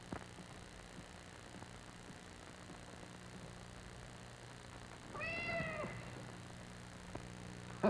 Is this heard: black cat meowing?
yes